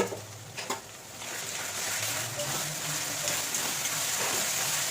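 Ginger, garlic and green chili paste with a little sugar frying for mutton kasha, a steady close sizzle with occasional scraping stirs of the spatula throughout.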